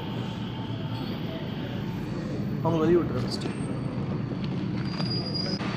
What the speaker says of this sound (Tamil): ஸ்கை ட்ரெயின் வந்துருச்சுங்க.